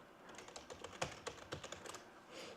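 Quick, uneven keystrokes on a computer keyboard during a Zoom and OBS broadcast setup, a string of close, crisp clicks with no talking.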